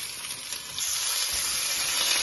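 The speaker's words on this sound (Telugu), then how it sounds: "ఇదే మూకుల్లో ఆయిల్ వేసి ఉల్లిపాయలు," Onions and tomatoes frying in hot oil in a pan, a steady bright sizzle and hiss that swells slightly louder partway through, close and alone with no voices.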